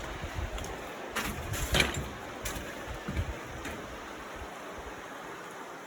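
The Cheakamus River flows near a bridge in backcountry ski terrain, making a steady, moderately loud rushing wash broken by a few short scrapes and knocks close by.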